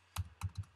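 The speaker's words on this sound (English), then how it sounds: "type in the search window, type the word" Keys tapped on a computer keyboard in short bursts, three or four quick clusters of clicks, close and fairly quiet.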